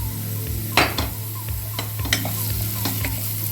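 Masala with beans and carrots stirred and frying in a pan, a steady close sizzle broken by a few sharp scraping strokes of the spoon, with no talking.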